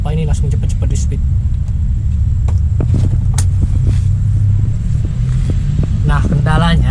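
A Bajaj RE auto rickshaw running on LPG cranks and starts, a low rumbling engine idling unevenly close by. Someone talks over it throughout.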